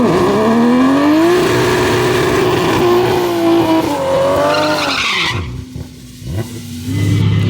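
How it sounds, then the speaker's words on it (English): A Barra-engined Ford GT350 on fresh tires does a loud burnout, the engine revving hard while the tires squeal steadily, then the pitch drops and the car shudders through choppy wheel hop before the engine roars again. "We changed tires, that's why the burnout will look different."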